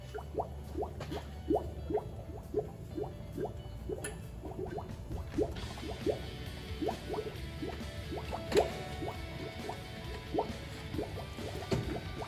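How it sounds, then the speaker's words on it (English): Engine oil draining from the sump of a Ford Kuga 2.0 TDCi into a pan, a steady run of close, rhythmic drips and splashes against a low background hum, with no talking. "we'll get the oil pan underneath it and drop the oil out."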